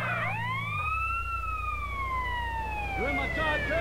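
Wailing ambulance siren in GTA San Andreas during a paramedic mission, a loud rising-and-falling electronic tone that sweeps steadily over engine rumble, with a brief second siren chirp near the end.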